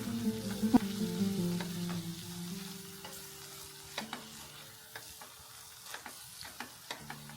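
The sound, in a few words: spatula scraping and stirring mango pickle masala in pan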